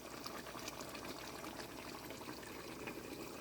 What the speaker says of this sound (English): I tip a little bit of water in the pan